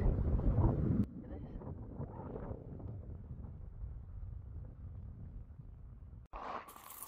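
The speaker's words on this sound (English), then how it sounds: "It's really windy" Strong wind at a Scottish mountain loch buffets the microphone with a heavy, rumbling roar, louder at first, then a steady gusty rush that continues throughout.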